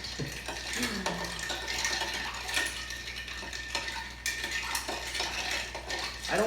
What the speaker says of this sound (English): now we're gonna go ahead and give it a stir